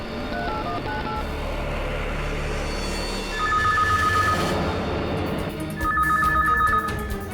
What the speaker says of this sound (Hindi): इस वक्त कौन फोन कर रहा है?